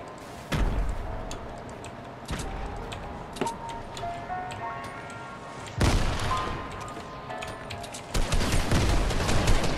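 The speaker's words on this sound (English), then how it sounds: "Throwing a bunch of nades that aren't hitting." Repeated booming grenade explosions in a shooter video game, several loud broadband bursts spaced irregularly over a dense busy game mix, with the final blasts heavier and closer together.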